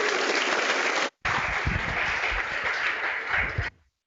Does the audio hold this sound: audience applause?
yes